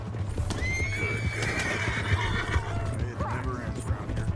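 Horse in Red Dead Redemption 2 gives a long, loud whinny over steady clip-clopping hooves, with background game sound throughout.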